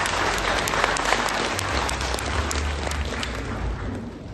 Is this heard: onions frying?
no